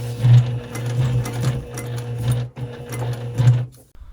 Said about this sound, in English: sew back over the straight edge of the square to the next corner